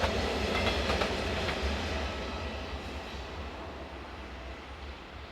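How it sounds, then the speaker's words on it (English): Czech Cargo locomotive 372013 hauling a freight train toward Dresden Friedrichstadt Yard, a steady low rumble with faint rhythmic wheel clatter, loud and close at first and easing slightly as it rolls past. "Czech Cargo's 372013 trundles through on its way to Dresden Friedrichstadt Yard"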